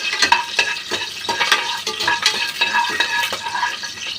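Vegetables and meal maker soya chunks frying in a pan for biryani, stirred briskly with repeated scraping and clinking strokes over a constant close sizzle.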